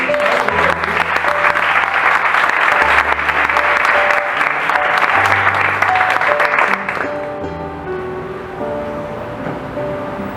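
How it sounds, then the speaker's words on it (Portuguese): Sustained audience applause at a Bible study gathering, many hands clapping loudly for several seconds over background music, then thinning out as the music carries on. "Aplauda o Espírito Santo."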